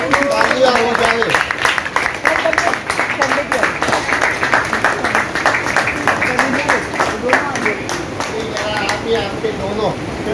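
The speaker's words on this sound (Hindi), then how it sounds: "तो जरा जोरदार दोनों के लिए तालियां हो जाए।" Laughter club members clapping together on Juhu Beach during a morning laughter yoga session, a steady run of close, rhythmic claps with voices underneath.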